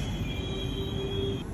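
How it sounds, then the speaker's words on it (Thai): A train at Lausanne station bound for Geneva, steady rumble with a long metallic wheel squeal held at one pitch across the clip, close and fairly loud. "เรากำลังรอรถไฟค่ะเพื่อจะเดินทางจากโลซานไปเจนีวา"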